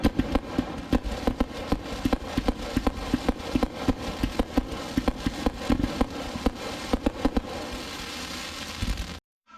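A fireworks cake fires 48 shots in about ten seconds, a rapid string of sharp pops and crackles at a steady rhythm, loud and close, then cutting off abruptly.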